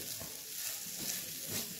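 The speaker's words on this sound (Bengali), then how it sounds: "এটাও কিন্তু হালকা ভেজে নেব" Mashed potato stuffing with ginger and garlic fries lightly in a pan, giving a steady close sizzle with soft stirring scrapes and no voices.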